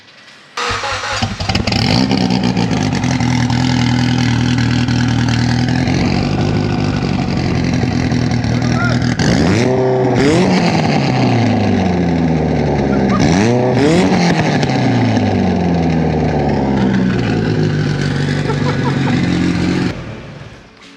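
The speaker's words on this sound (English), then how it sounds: "Now we're gonna start it up with the cutout open." A Mitsubishi Evo starts up with its exhaust cutout open and idles loud and raw, with two sharp revs in the middle that rise and fall. A brief voice is heard at the start.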